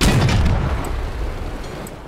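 A heavy boom from gunfire and an explosion in the vehicle combat game Crossout, loud at the start and then fading into a rumbling tail, with no voices.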